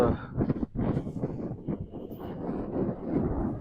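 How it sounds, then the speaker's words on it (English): Steady wind buffets the microphone in broad, rumbling gusts, filling the clip with low roaring noise that rises and falls without pause. "So this wind is windy, y'all."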